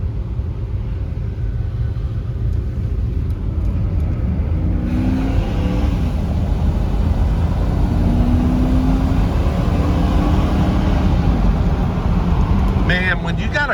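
A 2008 Ford Expedition Eddie Bauer with the 5.4 Triton V8 running on a test drive, a loud steady low engine rumble and road drone heard from inside the cab, with a faint rising tone partway through.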